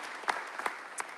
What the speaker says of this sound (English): Let's give Evan a round of applause.